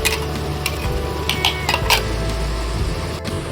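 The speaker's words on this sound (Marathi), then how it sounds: "आता आपण ही पेस्ट बनवली, आलं लसूण मिरची कोथिंबीर आणि खोबरं, ती पेस्ट टाकून घेऊया आपण." Ginger, garlic, chili, coriander and coconut paste going into a hot pan for an Aagri-style prawn curry, a steady close sizzle with a few light clinks and scrapes of a utensil.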